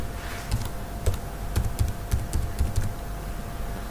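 A wallet password is typed on a computer keyboard, producing a quick sequence of light, close key clicks in irregular bursts over a quiet room hum.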